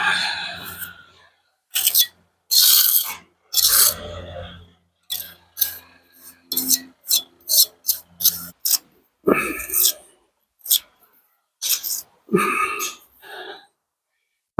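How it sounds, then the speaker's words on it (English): An old Roman trowel scrapes across plaster in short, rasping strokes, close and irregular, with pauses between passes and some breathy noises mixed in. "So we're using the old Roman trowel there at"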